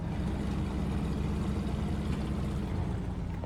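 The HULK trail rig's heavy truck engine in SnowRunner drones at a steady low rumble, constant and close, with no voices over it.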